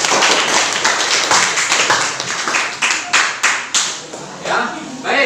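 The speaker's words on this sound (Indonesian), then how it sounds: "Berikan aplaus kepada kelompok." Students in a classroom clap for a group that has just presented. The applause is loud and close, with individual hand claps quickly fading into scattered taps.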